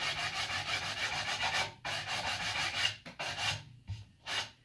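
Close, rhythmic strokes of sandpaper rubbing across a wooden paddle bow, a dry rasping sound in long repeated passes with short pauses between them.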